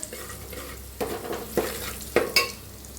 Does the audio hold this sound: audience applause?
no